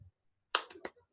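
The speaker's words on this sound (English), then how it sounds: "Golf clap." Three soft, quick hand claps are heard in a quiet room, the golf clap style of polite applause, brief and close after a moment of silence.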